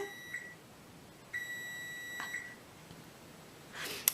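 An oven timer beeps in a home kitchen. It gives a short tone, then a longer sustained electronic beep, both clear and fairly close, over a quiet room with a brief rustle at the end.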